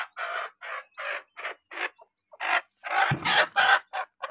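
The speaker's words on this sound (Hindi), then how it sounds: "मुर्गी को तो पकड़ लो" An Aseel hen clucks in a quick series of loud, close, repeated calls with brief pauses, rising into a denser burst of harsher squawks near the end, alone without talk.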